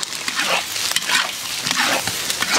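Chicken feet stir-fried in a hot oiled wok with ginger, garlic, purple ginger and red bird's-eye chilies give a steady, close sizzle, with scraping and tossing bursts rising and falling over a couple of seconds.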